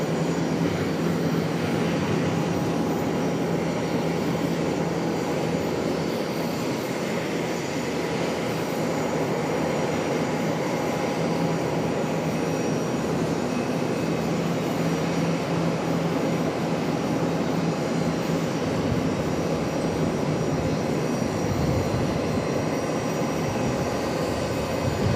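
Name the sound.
ERJ regional jet arriving at Charlotte airport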